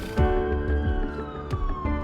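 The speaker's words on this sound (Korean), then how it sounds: "사이렌 소리다. 구급차가 왔나봐요." A wailing siren sounds from an ambulance, its pitch sliding steadily downward as it passes, loud and fairly near over low traffic rumble.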